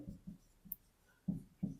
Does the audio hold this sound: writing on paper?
yes